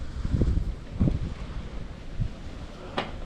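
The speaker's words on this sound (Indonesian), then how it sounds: "Ini kondisi angin kencang ya." Strong gusty wind buffets the microphone outdoors during an FPV flight of a Happymodel Mobula 8 drone fitted with a DJI O4 Lite, a steady low rumble with a few louder gusts and no talk.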